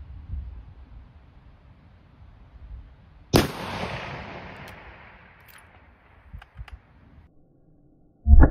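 A long-range rifle shot during a milk jug shooting challenge, one sharp, loud crack with a long rolling echo that fades over several seconds, then faint distant pops and another loud hit at the very end.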